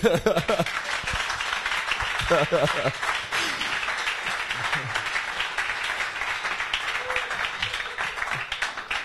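A church congregation applauds and cheers in praise of God, a broad wash of clapping and voices filling the room, with a few spoken or sung voices rising above it near the start.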